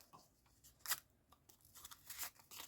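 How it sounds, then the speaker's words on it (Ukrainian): A small paper surprise packet with a snowman on it being torn open up close, a few quick rips and crinkles with a sharper tear near the middle, fairly faint, with no talking. "давайте його відкримо, цей пакетик з сніговичком."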